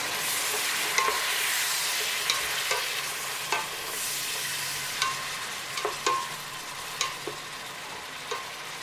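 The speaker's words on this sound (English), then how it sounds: "Allow to fry until dry. Stir from time to time." Tomatoes fry in a pot for a Cameroonian peanut butter soup, with a steady close sizzle broken by repeated scraping knocks of a spoon stirring every second or so.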